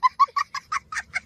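A cartoon duck quacks in a rapid run of seven short, nasal, evenly spaced calls, loud and close with nothing else underneath.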